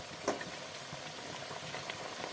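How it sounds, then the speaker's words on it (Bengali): Fish curry gravy for a catla fish jhal bubbling in a pot, a quiet steady simmering hiss with faint pops, close and soft with no talking. "ঝোলটা ফুটে উঠেছে দিয়ে দেবো মাছগুলো"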